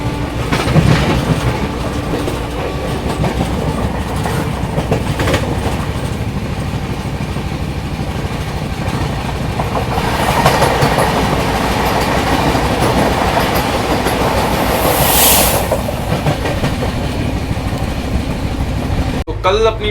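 The Sealdah Bikaner Duronto Express rolls along, its steady loud rumble carrying rhythmic clickety-clack of wheels over rail joints, with a brief squeal midway; a voice talks over the running train.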